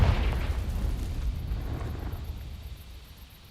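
A fiery Confringo blast spell from Hogwarts Legacy, cast at dry vines: a loud booming burst at the start that rolls into a long, fading rumble, with no voices.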